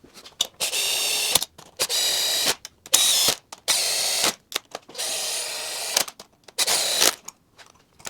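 A power driver runs screws into a 2003 Sea-Doo 4-TEC 185 engine during a rebuild, giving about six separate whirring bursts of a second or so each, with short pauses and small mechanical clicks between them.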